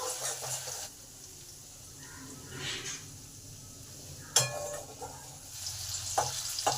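Ginger, green and dried chillies, cumin and asafoetida fry in hot oil with a soft continuous sizzle, broken by a sharp clink of a utensil against the pan and a few light stirring scrapes.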